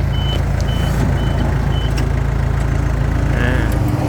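A Komatsu D21P-8E bulldozer runs during a test drive, its engine droning steadily and loudly up close while a reversing alarm beeps at a regular rhythm throughout.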